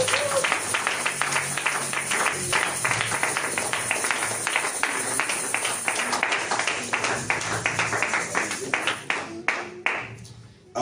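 Church congregation applauding in praise, a dense, continuous round of clapping from many people that thins out into a few scattered claps at the end.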